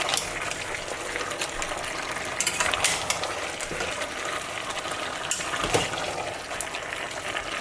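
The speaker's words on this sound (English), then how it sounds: "I'm going to stir it now." Beef tehari frying in a pot is stirred, giving a steady soft sizzle with scraping and clinking of the spoon against the pot, close and moderate.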